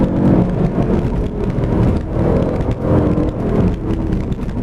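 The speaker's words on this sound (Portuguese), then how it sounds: "essa porcaria desse ronco desse V8 com Supercharger" A Jaguar XFR-S supercharged V8 engine roars loudly and continuously on the road, rising and falling in throaty surges, with no voices.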